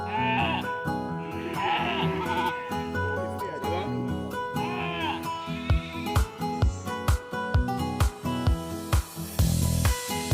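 A sheep bleats several times while being caught inside a pen during animal health training, heard over a busy background of tonal sounds and a rhythmic series of thumps and clatters.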